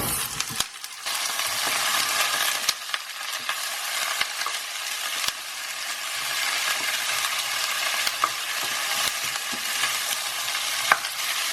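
Cauliflower florets fry in a pan with green chillies, a dense, continuous loud sizzle broken by occasional stirring clicks, close and with no voices.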